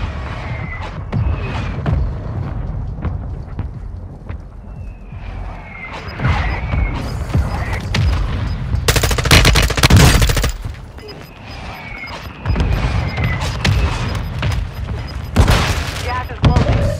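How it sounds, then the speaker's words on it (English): Mortar strike explosions in the video game Call of Duty Warzone 2.0, loud booming blasts and crashes layered over sustained gunfire and battle noise, with radio-style game voices during the barrage. "Mortar strike inbound."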